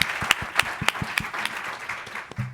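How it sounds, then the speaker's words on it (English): An audience at a panel discussion on children's healthy development applauds, with sharp individual claps standing out over a lighter spread of clapping from the crowd. "Can we give them one more round of applause?"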